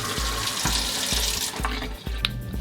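Water runs steadily from a kitchen tap into a sink fitted with a just-unjammed InSinkErator garbage disposal, a close, continuous splashing rush with a few faint clicks.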